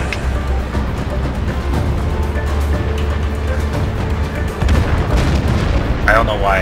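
Tank cannon fire in World of Tanks, heavy booming shots over a continuous engine rumble, with a loud blast near the end.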